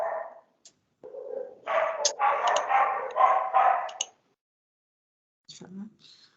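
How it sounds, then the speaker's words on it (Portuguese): Dogs on a busy residential street bark and yip in quick repeated bursts, fairly close, with a short pause before a final pair of barks. "hoje tá uma bagunça aqui na rua de casa e os cachorros não param de latir"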